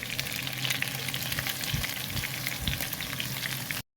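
Garlic tossed into a pan of frying adobo chicken, giving a steady close sizzle of hot oil with a few soft stirring bumps, continuous and loud until it cuts off abruptly at the end.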